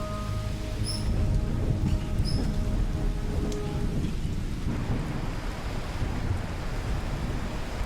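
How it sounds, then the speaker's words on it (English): Heavy thunderstorm over the Guyana savannah: dense rain hissing steadily on the ground, deep rolling thunder underneath, with a few distant bird calls early on before the downpour swells and drowns everything in a broad, continuous roar. "More rain clouds approaching, heralding a heavy storm."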